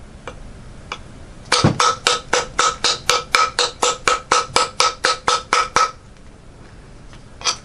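Knife impact test against wood: a rapid run of about twenty sharp, evenly spaced hammering blows, loud and close, following a couple of faint taps and fading back to quiet room tone.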